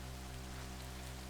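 Steady rain falls in the Minecraft modpack Craftoria, a constant soft hiss of drops on surfaces over a low ambient hum, even and unbroken throughout.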